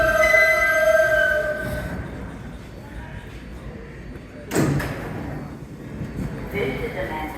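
A Manhattan-bound R subway train on the Brooklyn BMT line rides with a steady low rumble, an electronic tone fading early, then a sharp clunk like a door or car jolt midway followed by continued rolling noise.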